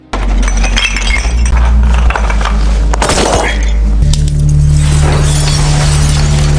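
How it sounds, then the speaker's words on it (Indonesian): Light bulbs are smashed on a staircase, with loud clinks, cracks and glass tinkles scattered among a dense film soundtrack with music and low rumble throughout. "Carter menghancurkan bohlam-bohlam tersebut lalu menaburkan pecahan kacanya di sepanjang tangga"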